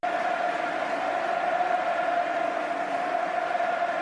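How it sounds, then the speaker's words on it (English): Stadium crowd at a Barcelona versus Atletico Madrid football match sings for Lionel Messi, a steady, far-off roar of massed voices holding a continuous chant throughout. "This crowd absolutely singing their love for Lionel Messi"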